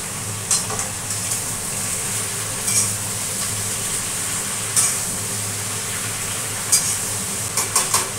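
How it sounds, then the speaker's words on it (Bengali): Malabar spinach stems with turmeric and sugar are stirred in a pan over a constant loud sizzle, with a few spoon scrapes against the pan scattered throughout. "এবার একটু মিক্স করে দিচ্ছি নেড়ে।"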